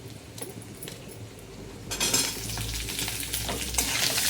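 Green chillies and onion hitting hot oil in a pan for a chutney, a quiet kitchen hum at first, then a loud, steady sizzle and frying crackle with occasional stirring clinks, close by.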